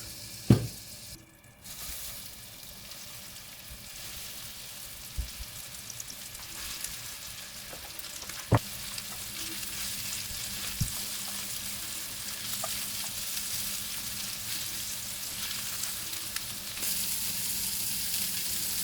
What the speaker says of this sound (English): When the butter is melted, you can add your meatballs